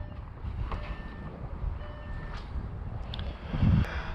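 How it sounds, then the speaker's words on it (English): The power boot of a 2021 MG HS SUV closes after a button press, with repeated warning beeps sounding as the tailgate lowers, then a dull thud as it shuts near the end. "So to close the boot, simply press the button."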